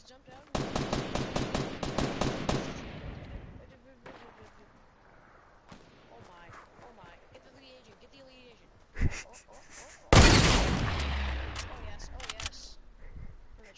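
Rapid automatic Fortnite gunfire in a build battle, a dense rattling burst up front, a few scattered shots, then a loud heavy blast near the end, while a player talks between volleys.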